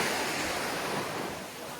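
Waves wash steadily onto Ao Wai beach on Koh Samet, Thailand, a broad, close surf hiss that eases off slightly toward the end, with no voices.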